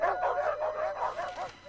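Several dogs bark in a Subaru Outback commercial, a quick run of rhythmic, fairly soft yapping barks with no talk.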